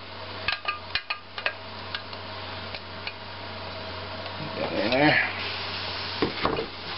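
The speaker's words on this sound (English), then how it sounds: "I'm going to stir it constantly so it doesn't stick to the pot" Strawberry jam stirred constantly in a pot on the stove, a spoon scraping and clinking against the sides in irregular taps over a soft bubbling simmer, close up with no talking.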